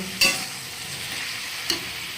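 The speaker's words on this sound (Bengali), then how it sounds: "খুব ভালো করে এটাকে নাড়াচাড়া করে কষিয়ে নেব" Chilli powder and ginger paste stirred and fried in a pan, with two brief, sharp scraping strokes standing out over a steady, soft sizzle.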